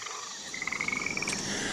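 A frog gives a short run of rapid croaking pulses, close and fairly faint, over a steady background hum with no talking.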